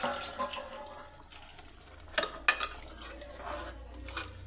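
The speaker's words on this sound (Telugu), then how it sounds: "కొంచెం వాటర్ పోసుకుందాం" Water is poured into a simmering chicken and egg curry in a pan, producing soft splashing and liquid trickling with a few clinks of a utensil against the pan; quiet and close, without speech.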